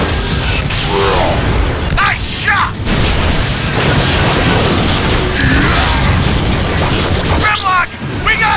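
Thrown fuel pot exploding in the video game Transformers: Fall of Cybertron, amid continuous battle noise with a heavy boom, crashing debris and whooshing effects, loud and up close, while characters shout over it.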